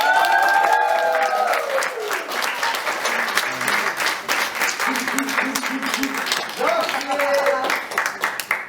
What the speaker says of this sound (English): Wonderful round of applause for Nox and Jikki.